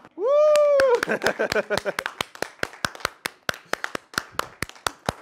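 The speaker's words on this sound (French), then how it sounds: "j'aimerais qu'on fasse une belle main d'applaudissements pour toute l'équipe" A theatre audience applauds the team with steady rhythmic clapping after a loud, drawn-out vocal whoop opens the moment, and the claps continue crisp and evenly spaced to the end.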